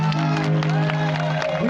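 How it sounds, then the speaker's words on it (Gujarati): An audience bursts into loud, close applause and cheering, a dense wash of clapping with a voice and crowd babble mixed in. "એકવાર તાળી તમારા માટે."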